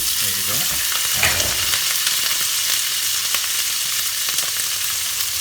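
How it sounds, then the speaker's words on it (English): Szechuan beef and vegetables stir-fry in a hot pan with a loud, continuous sizzle and crackle, broken by a few scraping stirs; no one speaks. "Now my beef has already been cooked, but now we got to cook it with the vegetables"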